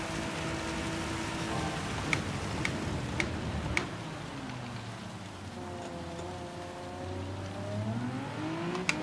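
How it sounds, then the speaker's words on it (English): Heavy rain pours down loudly during a race in a racing video game, a steady wash of hiss with sharp ticking drops, while a car engine hums underneath and rises toward the end. "This rain is so loud"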